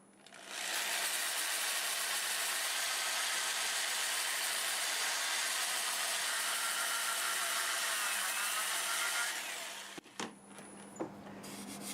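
A catalpa wood bowl spinning on a lathe while being sanded gives a steady, loud, broad rushing hiss for about ten seconds, then stops abruptly, followed by a few faint handling knocks.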